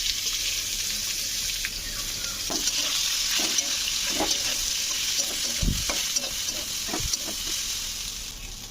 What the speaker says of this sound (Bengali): ফোড়নটা হালকা ভেজে নিয়ে আলু আর পেঁয়াজ কেটে রেখেছিলাম দিয়ে দিলাম